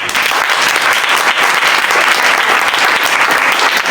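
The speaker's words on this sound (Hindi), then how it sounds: "तालियां बजाएंगे।" Congregation applause at a church service following an Urdu sermon, a dense, steady wash of many hands clapping together, loud and close, filling the whole stretch without talk.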